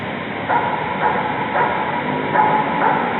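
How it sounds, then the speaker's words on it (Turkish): A dog barks several times at a distance in a horror video game, short muffled yaps spaced about half a second apart over a steady background hum. "Köpek sesi arkadaşlar."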